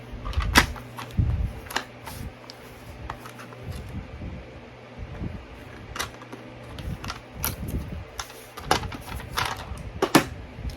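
Irregular clicks, taps and small scraping handling noises come from screwing a rivet into a neoprene lunch bag, close and fairly quiet with brief pauses between sounds.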